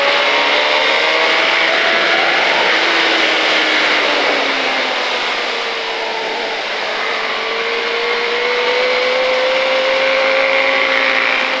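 KTM Superduke motorcycle from 2005 accelerating hard on the Pau track, a loud steady engine drone with rising pitch sweeps held across the whole stretch, dipping slightly midway before climbing again.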